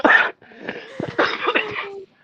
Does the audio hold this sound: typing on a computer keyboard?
no